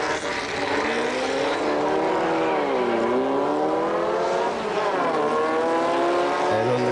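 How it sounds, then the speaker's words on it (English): Drag race cars, likely VW-based, rev their engines as they roll into stage at a Bug Jam quarter-final, with loud, sustained engine tones that dip and climb in pitch. "Cars rolling into stage."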